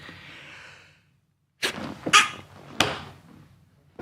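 After a pause, a sharp stifled sneeze bursts out close by, followed by a couple of quick sharp sounds that fade away.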